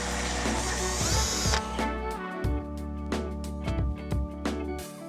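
A power drill bores through a hard steel bolt on a Nissan Patrol build, a loud steady whine broken by repeated bursts and stalls as the bit bites, close and alone.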